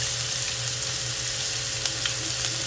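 Garlic and onion fry in hot oil in a pan, a steady, close sizzle running the whole time with faint crackles and no one talking.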